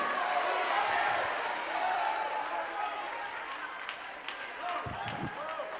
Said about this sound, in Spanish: Dale ese aplauso al Rey de Reyes